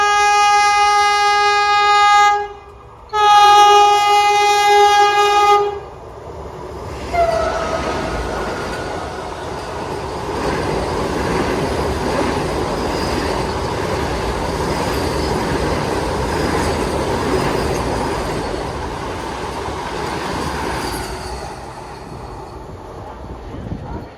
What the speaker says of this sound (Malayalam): ഗൈസ്, വന്ദേ ഭാരത് വരുന്നുണ്ട്. വന്ദേ ഭാരത് വരുന്നത്.